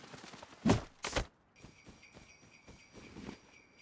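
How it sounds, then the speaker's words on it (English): Sleigh bells in the survival game Rust, a faint sustained jingling shimmer that starts partway through after a couple of thumping footsteps and holds quietly to the end. "Why do I hear sleigh bells?"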